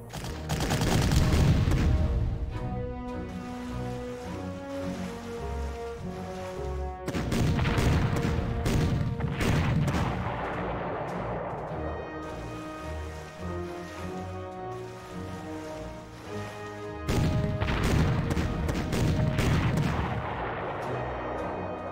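Big warships fire in the Panzer Corps strategy game, a run of heavy booming artillery volleys in three loud bursts, each rumbling and decaying over several seconds beneath a bed of game music.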